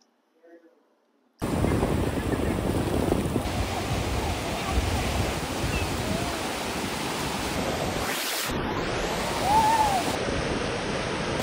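Waves breaking on a Goa beach under strong gusting wind, a continuous loud roar of surf and microphone buffeting after a brief quiet start, with faint voices in the background.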